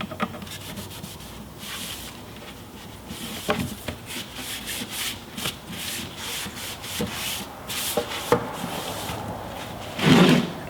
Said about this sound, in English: I'm just going to take a damp rag and go here in my joints or my seams and make sure that I didn't get any extra glue in here